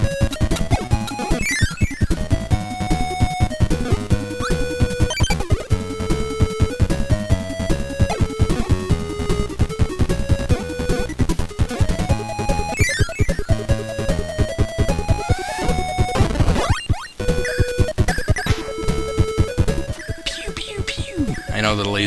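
Laser sound effects from the NES game Kirby's Adventure fill a busy stretch of chiptune audio, with rapid bleeps, pitch sweeps and buzzing tones layered over the game music throughout.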